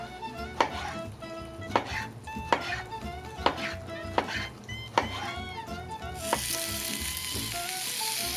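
Tofu and pineapple sizzling on a grill, a continuous close sizzle punctuated by regular sharp metallic taps, swelling into a brighter, louder hiss near the end.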